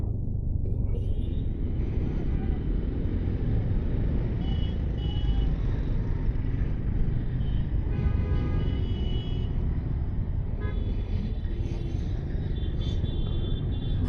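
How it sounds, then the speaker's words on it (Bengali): Road traffic in a jam rumbles around a Gixxer 250 cc motorcycle, a steady low engine and vehicle drone with faint horn-like tones, continuous and fairly close. "রাস্তায় জ্যাম ছাড়া কিছুই নেই।"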